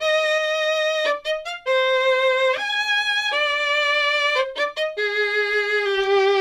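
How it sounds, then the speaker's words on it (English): A virtual gypsy fiddle plays dry, with no reverb or compression: a bright bowed melody of sustained notes and quick grace-note ornaments, close and alone. "So there's the fiddle itself, though. That's a great, super, super great dry sound."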